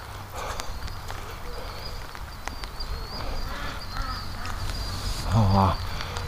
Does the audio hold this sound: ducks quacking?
yes